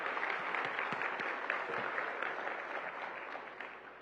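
Steady applause from a conference audience at a hospitality and tourism summit, honoring panelists and a moderator; dense, sustained clapping at moderate volume, slowly tapering toward the end.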